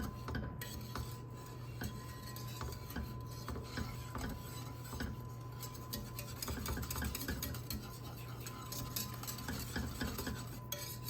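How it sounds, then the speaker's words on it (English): Pot pie gravy whisked in a pot: a continuous close, scratchy metallic rubbing and rattling of a whisk against the pot, steady and fairly quiet with no voices. "So I'm gonna keep whisking it till I think it's fully combined, fully mixed together"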